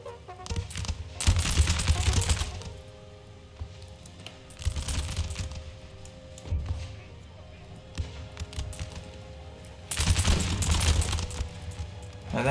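Musket volleys in Empire: Total War: crackling bursts of massed musket fire in several rolling waves, some near and loud, others softer and more distant, with battlefield ambience between.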